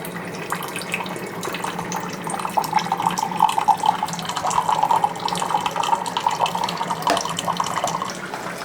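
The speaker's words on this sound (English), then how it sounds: "Our Cove Pure lets you have, it's boiling water, so I don't even have to boil water." Boiling water dispenses from a Cove Pure water machine into a container in a kitchen, a steady, close pouring stream that continues throughout the clip with a faint hum underneath.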